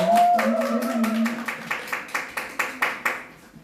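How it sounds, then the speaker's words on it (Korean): A modest audience at a women's party education meeting claps in a steady, rhythmic run of distinct, evenly spaced handclaps, close and clear. A voice is heard briefly at the start. "큰 박수 부탁드리겠습니다."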